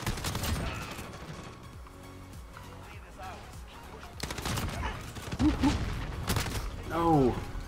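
Gunfire in a Call of Duty match on the cramped Shipment map, with scattered shots and short bursts under frequent talk, plus brief game effect sounds.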